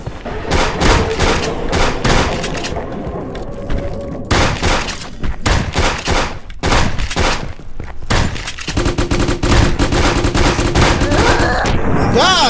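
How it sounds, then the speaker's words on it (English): Shotgun blasts from a boomstick in a violent video game, loud repeated booming shots in a dense, chaotic run of gunfire, with rapid bursts and thuds piling up across the stretch. "I'm about to use this boomstick"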